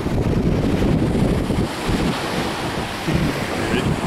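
Ocean surf and steady wind at the beach, a loud continuous roar of breaking waves with heavy wind buffeting the microphone throughout.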